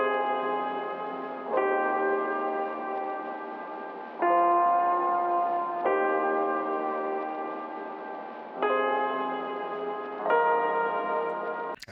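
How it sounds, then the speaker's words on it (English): A lo-fi piano loop at 110 BPM made for hip-hop beats: soft, sustained chords that change every couple of seconds, warm and bell-like with a muffled, slightly dull tone, playing alone. "Yeah, the idea started with this little lo-fi piano loop I made"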